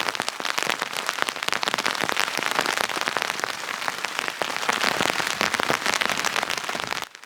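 Heavy rain pattering on a backpacking tent high in the Uinta Mountains, a dense, constant rush of close drops with crisp individual hits, steady throughout before cutting off at the end.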